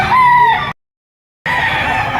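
Roosters crow loudly and close at a chicken market in Padre Garcia in two bursts separated by a short silence, with hens clucking around them.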